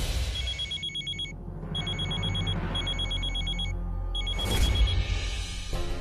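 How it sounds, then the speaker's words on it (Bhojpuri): A telephone rings in a domestic drama scene: an electronic ringtone sounds in repeated trilling bursts with short gaps, loud and close, with no talking over it. "अरे फोन उठावा ना।"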